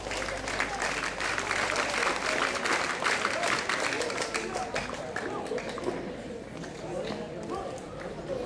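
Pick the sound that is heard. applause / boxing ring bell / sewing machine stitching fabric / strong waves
applause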